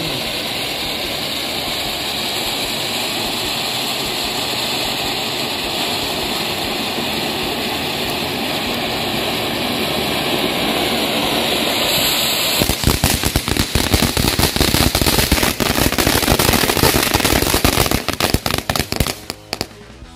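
A large fountain firework sprays with a loud, steady roaring hiss, then breaks into dense, rapid crackling toward the end.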